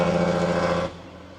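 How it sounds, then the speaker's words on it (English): Road traffic passes close by outdoors, a broad steady engine and tyre roar with a tonal hum that drops off abruptly near the end, leaving a quieter residual rumble. "sorry for the traffic noise"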